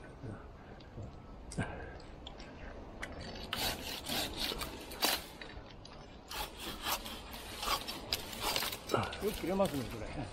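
A hand pruning saw rasps through a branch of a weeping plum tree in a series of uneven strokes, fairly close, while people talk quietly nearby.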